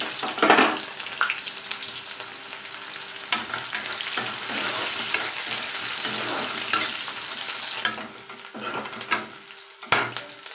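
Onions frying in oil after a cumin tempering while a spoon stirs them, giving a steady sizzle broken by repeated scraping and clinks against the pan, with no talking.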